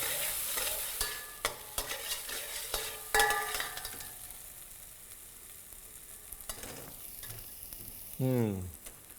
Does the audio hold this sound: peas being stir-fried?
yes